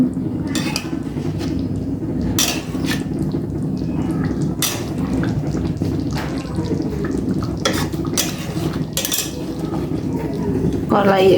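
Shrimp koftas being gently stirred in a kadai (wok), with a spoon scraping and clinking against the pan in steady, repeated strokes over a continuous sizzling bed of sound.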